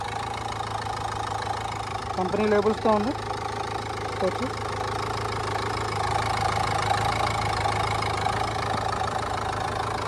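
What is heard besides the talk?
Renault Duster RXS 2019 diesel engine idling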